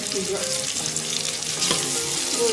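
Onions frying in a pan for chicken salan give a close, steady sizzle with light stirring for a few seconds, and no one speaks over it.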